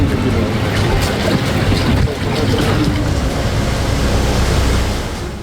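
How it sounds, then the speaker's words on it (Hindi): Floodwater surging through streets during heavy monsoon rain in Gujarat, a loud continuous rushing roar that fills the whole stretch and eases slightly near the end. "घरों के अंदर सैलाबी समंदर, सड़कों पर दरिया का उफान"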